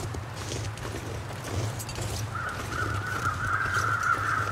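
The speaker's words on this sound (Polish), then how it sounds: "O, widzę jakieś te wrony" Crows cawing in the survival game The Long Dark, heard faintly in the distance over a steady outdoor wind and low rumble, with a thin sustained tone joining midway.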